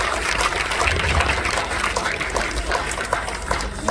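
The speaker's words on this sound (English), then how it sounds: "Please give him a big round of applause." An audience claps continuously after an evening dance performance, a dense, steady wash of applause filling the hall without a break.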